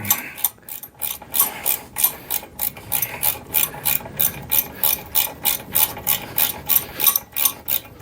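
A ratchet wrench snugs bolts on a luggage rack for a Polaris Slingshot with a fast, steady series of loud, close clicking strokes that repeat evenly for the full stretch without any talk.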